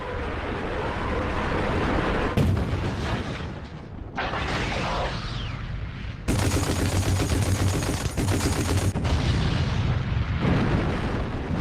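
Russian rocket launcher artillery fire in WWII footage: a dense, continuous roar of booming blasts and rumbling volleys, loud and unbroken throughout.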